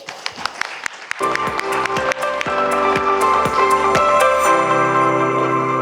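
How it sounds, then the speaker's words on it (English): An audience at an investment conference panel claps steadily over a sustained musical tone, the applause growing fuller and continuing to the end. "Applause."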